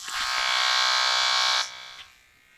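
A Colgate 360 electric toothbrush switched on, giving a loud, steady high-pitched buzz for about a second and a half before cutting off abruptly, with a brief final blip and quiet afterward.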